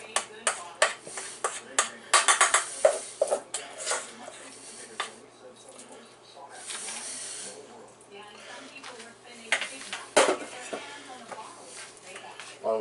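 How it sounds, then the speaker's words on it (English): A plastic spoon scrapes and taps inside a rice cooker pot while stirring sweet chili noodles, giving irregular clicks and knocks with short pauses between them, and a person talks quietly over them. "Using your plastic spoon, give it a bit of a stir just to fluff it up"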